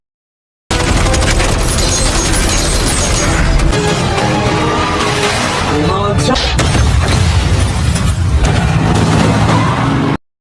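A missile blast in an action film scene erupts as a loud, dense roar of booms, crashing debris and shattering, sustained for several seconds before cutting off abruptly.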